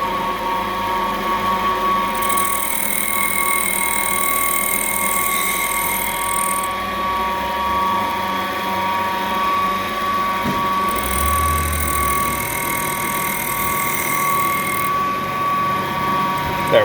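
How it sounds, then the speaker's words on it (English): An air compressor runs steadily in the background of a workshop where a 671 supercharger is being rebuilt, giving a continuous mechanical drone with a rattling edge and a shrill high whine that comes and goes in long stretches. "That racket you can hear in the background is just a compressor in there."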